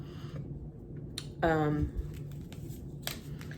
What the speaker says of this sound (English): So I like to shuffle 3 times